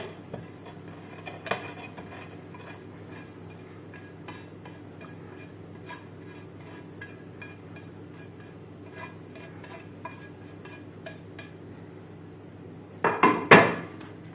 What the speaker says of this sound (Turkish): Yeşilliklerle beraber de son kez karıştırıyoruz.